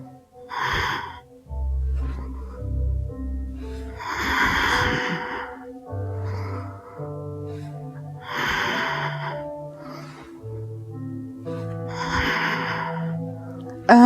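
Deep yoga breathing in and out repeats in slow, loud nasal cycles, each breath a rushing hiss over soft background music, close to the listener.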